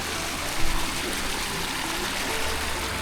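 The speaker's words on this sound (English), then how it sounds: "drain all the nasty water and stuff that's in here out the end of that pipe. A nice muddy sludge." Muddy, sludgy water pours out the end of a drain pipe from a potato storage system, a loud, continuous rushing gush with a slight surge near the start and no voices.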